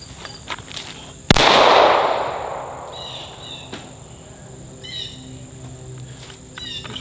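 A single sharp handgun shot rings out during a T-drill, with a long, loud reverberant decay that fades over a few seconds, followed by faint clicks and quiet background.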